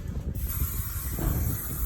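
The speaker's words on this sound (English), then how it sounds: "So a little bit of fly spray here," Fly spray hisses from an aerosol can onto a bull in a cattle yard, a short continuous close spray over a low rumbling background.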